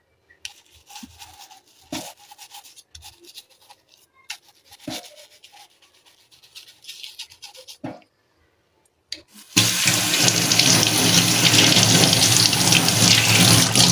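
Whole crabs being cleaned for an Agri-style crab curry: about nine seconds of scattered soft knocks and handling, then running tap water bursts in, loud and steady, to the end.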